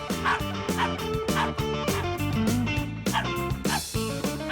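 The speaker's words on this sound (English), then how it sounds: "That's enough with the barking" A dog barks and yips repeatedly in a rapid, rhythmic series, close and loud, with whimpering tones between barks.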